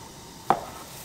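A bench knife cuts through bagel dough once, making a single short, close thud against the work surface amid quiet background.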